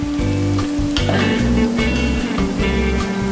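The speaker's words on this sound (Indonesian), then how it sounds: "kita goreng kurang lebih 7 menit pakai api sedang" Chicken pieces for a salted egg dish fry in oil over medium heat, giving a steady, fairly loud sizzle that runs throughout alongside low background hum and occasional clinks.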